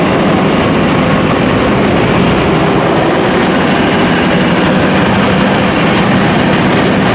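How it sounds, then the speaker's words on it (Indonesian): The Cipurai passenger train, running from Garut to Jakarta, passes very close and loud, a steady roar of wheels and clattering cars over the rails that holds for the whole stretch. "ternyata di belakang segera muncul ya kereta api Cipurai"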